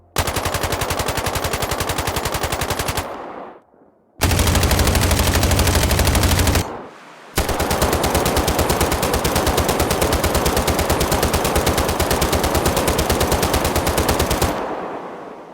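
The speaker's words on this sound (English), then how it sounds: "the assault rifles and LMG having a very pleasing chatter to them" Assault rifle and LMG fire in the video game Sniper Ghost Warrior Contracts: loud, sustained full-auto bursts with rapid even chatter, three long strings separated by short silences, no talk.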